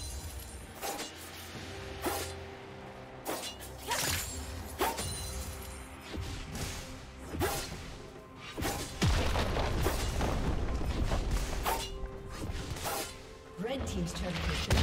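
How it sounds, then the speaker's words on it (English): A turret being destroyed in League of Legends: a series of booms, crashes and shattering impacts with whooshes over busy game sound, ending in a heavier rumbling blast, while an announcer voice speaks over it. "Red team's turret has been destroyed"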